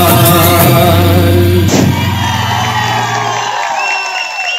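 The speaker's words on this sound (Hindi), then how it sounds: "तालियां रुकनी नहीं चाहिए" A crowd at a school annual day cheers and whoops loudly over a musical performance, with a sharp bang partway through; the music cuts off near the end while the cheering fades.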